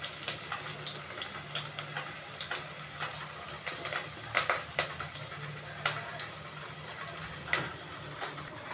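Chopped onion and curry leaves added to hot oil for sambar crackle in a steady sizzle, with scattered sharper pops and a few stirring clinks standing out above the continuous frying hiss.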